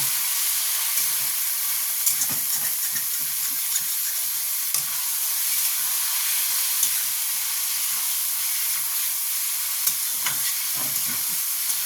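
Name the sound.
chicken keema frying in pan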